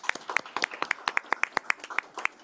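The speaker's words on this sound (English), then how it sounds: "So let's give her a round of applause." A school board meeting audience claps for a newly introduced health services director, a short burst of sparse, distinct hand claps from a modest crowd, moderately loud and without talk.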